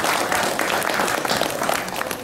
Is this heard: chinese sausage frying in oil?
no